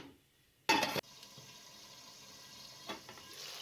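A short, loud splash of water goes into a pan of potatoes for achari kadhi, followed by a faint, steady simmer with a small second splash.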